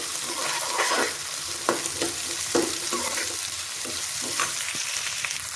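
Onions sizzle in a pan while frying toward golden brown for chilli potato, a steady close crackle with a few sharper stirring scrapes scattered throughout and no voices.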